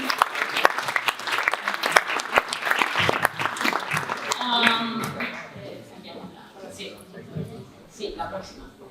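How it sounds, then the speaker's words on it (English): Applause from a conference audience welcoming a discussion panel at the COP16 event in Cali. The clapping is loud and dense at first with scattered sharp claps, then thins and fades while voices speak over it. "Give them a big applause."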